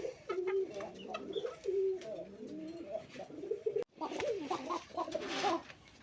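Pigeons coo inside a coop, repeated soft rolling calls from close birds in short bursts with brief pauses, fairly quiet and mostly alone.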